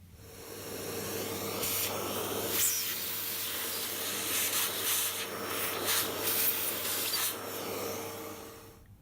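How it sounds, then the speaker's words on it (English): Vacuum cleaner sucking up metal shavings after fitting an SR250 motorcycle ignition timing advance kit: a steady loud hiss and rushing airflow with a constant low hum, scattered rattling bursts as debris is drawn in. "I'll remove the rag and then clean this up with a vacuum cleaner just to make sure that we've got every last piece"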